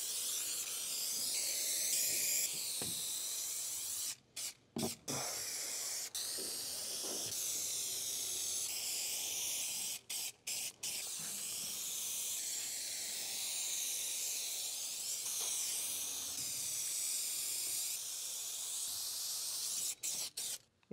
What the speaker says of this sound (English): ready to start spraying down glue so we can apply our fabric